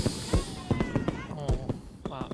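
Fireworks from the dating video game Gakuen Handsome pop and crackle in quick, sharp bursts, heard beneath a person talking.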